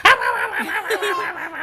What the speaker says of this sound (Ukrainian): Та собака така зла.